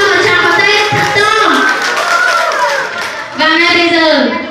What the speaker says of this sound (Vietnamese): Đề nghị chúng ta cho một tràng pháo tay thật to.